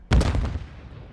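Enemy gunfire in Modern Warfare 2 multiplayer, a single sharp burst of shots with a short rattling tail, close and loud, then quickly fading.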